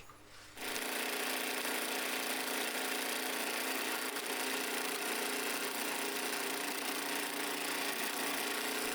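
Small 13mm drill press rigged as a lathe, its motor spinning up and running with a steady, even whir and faint mechanical hum for several seconds, no talking over it.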